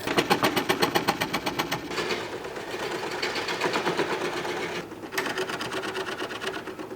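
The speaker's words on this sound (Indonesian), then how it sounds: "Potonglah semua lubang ukir kerawangan menggunakan mesin scroll tepat pada sisi luar garis pola." A scroll saw cutting pierced openings in a carved wooden wall panel chatters with a fast, steady mechanical rhythm, close and loud, briefly pausing and restarting near the end.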